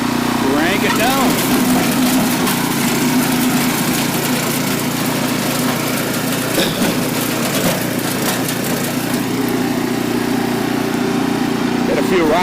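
Troy-Bilt Horse rototiller engine running in low gear while tilling deep, a loud, steady, close droning roar throughout with a voice over it.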